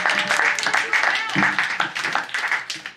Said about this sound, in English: So round of applause for fiber.